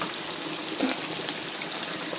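Steady, broad rush of floodwater pouring into a house, a continuous loud hiss like a small waterfall with no pauses.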